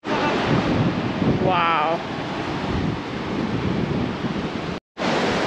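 Ocean waves washing in continuously at Nunggalan Beach in Uluwatu, Bali, a steady loud roar of surf mixed with wind buffeting the microphone, with a brief exclaimed voice partway through and a short dropout near the end.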